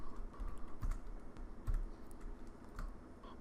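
Someone types on a computer keyboard while building a simple Excel formula. The keystrokes are soft and quick, an irregular patter of close, faint clicks over a quiet room.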